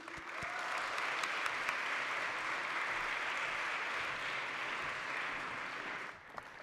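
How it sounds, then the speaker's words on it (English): An audience at an awards night applauds the nominees with sustained, even clapping from a sizeable crowd, holding steady for several seconds before tapering off at the end. "a huge round of applause for all the nominees tonight"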